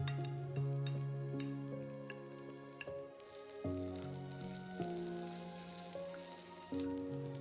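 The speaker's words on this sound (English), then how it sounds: "add mustard seeds to the oil, and when it gets hot, add dry shrimps. Next, add onion" Onion and dried shrimp sizzle in hot oil with mustard seeds, a steady hiss of frying running under louder background music that carries through the whole stretch.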